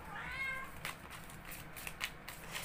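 A female cat in heat meows in repeated, wavering calls, loudest near the start and then fainter in short bursts, over a steady background hiss.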